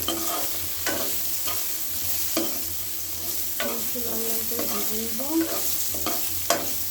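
Spiny gourd (kakrol) seasoned with turmeric and salt fries in hot oil, a continuous sizzle broken by repeated scraping stirs and light clinks close up, with no voices.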